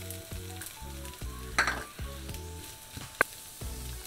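Onion goes into hot oil in a pan for a Thai clam stir-fry with chili paste, a close steady sizzle with a couple of sharp clinks. Light background music plays.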